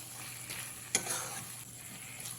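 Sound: stirring fried potatoes into spice masala for fish curry

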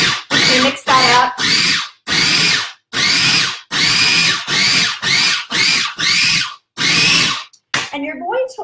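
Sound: food processor chopping almond-milk cheese appetizer mixture

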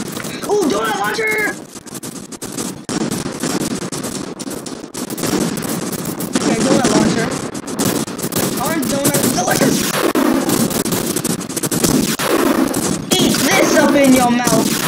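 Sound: donut launcher firing in a food fight video game

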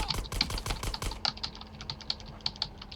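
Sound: computer keyboard typing

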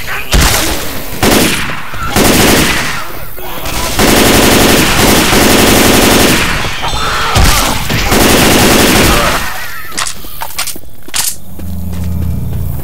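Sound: gunfire with incendiary ammo in video game Left 4 Dead 2

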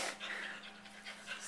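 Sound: dog panting

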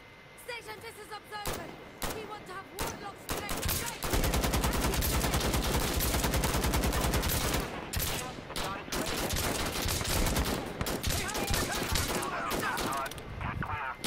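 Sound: gunfire in the video game Insurgency: Sandstorm

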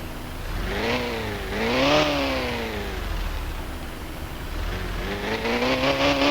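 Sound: car engine exhaust revving in video game

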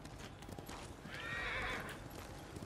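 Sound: white horse neighing and hooves in Ghost of Tsushima video game

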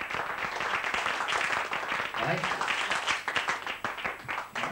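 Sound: pub audience applause

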